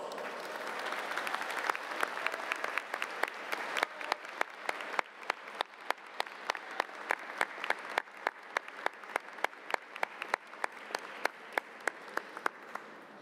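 A graduation audience of families and graduates breaks into long, sustained applause, dense clapping filling a large hall with sharp individual claps standing out on top, steady and fairly loud throughout without talk.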